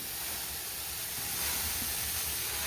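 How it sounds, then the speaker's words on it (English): A US Steam Falcon steam cleaner on its low setting releases a steady, unbroken hiss of steam that holds at an even level throughout, close by and with no talking. "now you have your steam. So this is on our low setting"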